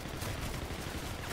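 Rapid, continuous gunfire in the Call of Duty: Infinite Warfare zombies mode, a dense unbroken burst with no reloading pauses, loud and filling the whole moment.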